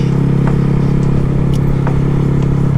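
A Honda Grom stunt motorcycle's small engine drones loud and steady up close on an open bumpy road, with a constant mid-pitched rumble and faint clattery ticks.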